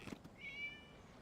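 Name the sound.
cat meowing in a video game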